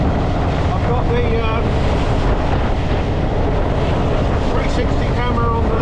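Heavy, steady wind buffeting a helmet-mounted GoPro Hero 10 microphone on an Indian Roadmaster motorcycle at about 40 mph on a windy day, a loud continuous roar filling the whole clip with no speech.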